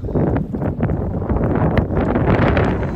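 Loud, steady wind buffeting the microphone at sea in the Sea of Cortez, gusts around 25 to 30 knots, a continuous low roar with gusty rumbles throughout and no voices.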